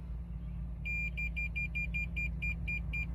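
Rapid electronic warning beeps from a 2024 Toyota Camry XSE sensing someone in front of the car, a steady repeating series of short high chirps over a constant low engine hum.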